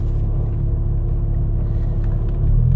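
Porsche Boxster driving toward a dealership, heard from inside as a steady low rumble of engine and road noise with no talking.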